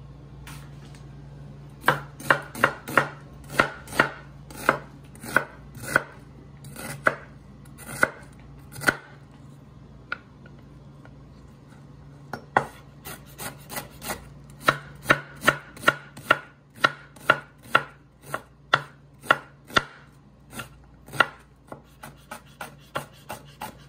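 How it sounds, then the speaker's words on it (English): A knife dices half a red onion on a cutting board in a kitchen, producing many crisp close-up chopping taps in quick rhythmic bursts with short pauses between runs. "half red onion, so dice"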